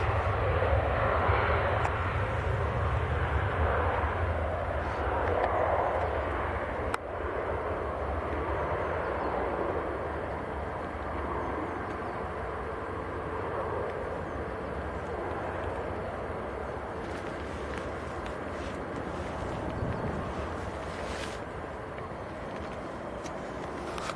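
An EasyJet airliner arriving from Lisbon at Manchester Airport produces a steady, broad engine roar that persists throughout, moderately distant, with a brief sharp click early on.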